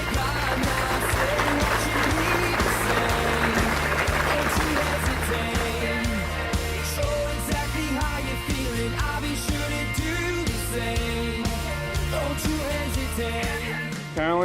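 Wedding guests clap after the couple's first kiss, a steady wash of many hands under music with a sustained low drone and occasional cheers, fairly loud and continuous throughout.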